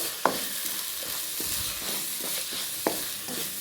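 Egg kottu parotta masala with coriander powder and garam masala being sautéed, a soft steady sizzle with a few sharp clinks and scrapes of stirring, close by.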